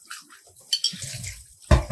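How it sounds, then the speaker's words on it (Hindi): Water sloshes and splashes while a plastic bottle is rinsed clean, with soft swishing, a brief splash near the middle and a louder gush at the end, close and without talk. "तो ये देखिए तो पूरा पानी मैंने धो के पूरी बोतल को साफ कर दिया पूरा।"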